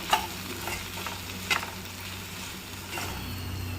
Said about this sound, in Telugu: ఇలా వంకాయ ముక్కలు మధ్య మధ్యలో కలుపుకుంటూ ఉండాలి